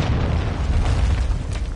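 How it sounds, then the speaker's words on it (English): A cruise missile explodes in a first-person shooter video game, a dense, sustained low boom and rumble that stays loud throughout. "Hostiles launched a cruise missile."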